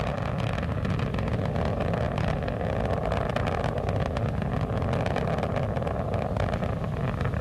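Roaring rumble of Space Shuttle Atlantis's three liquid-fuel main engines throttling back during the STS-112 launch from Kennedy Space Center, a steady, dense, loud broadband roar with no pauses.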